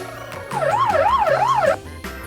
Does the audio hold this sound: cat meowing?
no